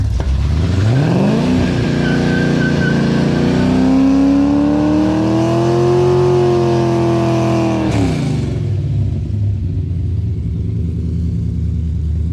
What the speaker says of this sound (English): Definitely spins the tires.